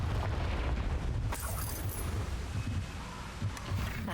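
A Confringo fire-blast spell going off in Hogwarts Legacy, a dense rumbling boom that swells and rolls on with crackling debris, loud and close with no voices.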